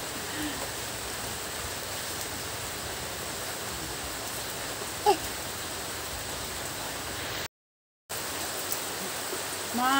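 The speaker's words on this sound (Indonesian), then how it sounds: "Masih terus hujan" Steady rain falls outdoors as a continuous, even hiss, fairly faint, with no voices and a brief dropout near the end.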